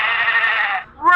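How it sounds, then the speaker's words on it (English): Sheep bleat played in reverse, a sustained reedy cry that fades out, followed by a brief rising vocal fragment at the end, loud and close. "Sheep."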